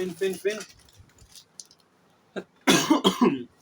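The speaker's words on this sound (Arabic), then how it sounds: "معلش بقى بكح عشان كتير، عشان لسه جاي من بره" A man coughs in a short burst, two or three harsh coughs close to the mic, after earlier talk and a few faint clicks in the background.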